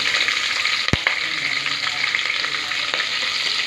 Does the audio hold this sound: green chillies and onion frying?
yes